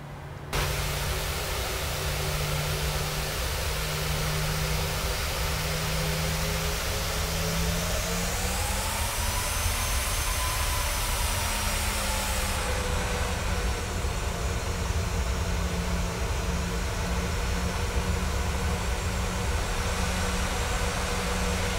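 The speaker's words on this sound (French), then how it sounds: "comme on est autorisé au roulage, c'est parti." Steady, loud broadband roar inside a Ryanair Boeing 737-800 as it taxis from Marseille, with engine tones slowly rising and shifting partway through and no talk.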